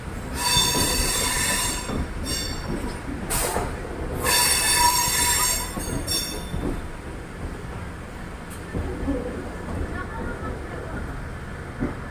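A passenger train rolls into Yelahanka Junction station loudly with squealing wheels and rumbling carriages, easing off toward the end while voices murmur faintly.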